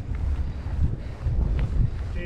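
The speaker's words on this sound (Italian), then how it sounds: "Che vento, che vento!" Strong wind gusts roar and buffet the microphone outdoors among olive groves and cliffs in Val di Susa, a loud continuous low rumble that swells and dips throughout.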